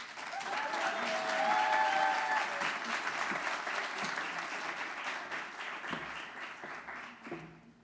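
Sustained audience applause welcoming a speaker at a university graduation ceremony, a dense wash of clapping from a large crowd that swells early and slowly tapers off, with faint murmurs underneath.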